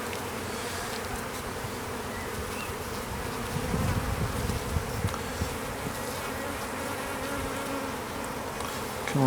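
Honey bees hum and buzz steadily around an open hive during a hive inspection, a dense close swarm sound at low level, with a brief louder swell partway through and no talk.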